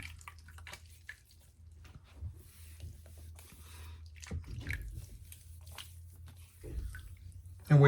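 Water splashes and drips in soft, uneven bursts as a face is rinsed after a straight razor shave, with quiet squishy handling sounds and a faint low hum underneath.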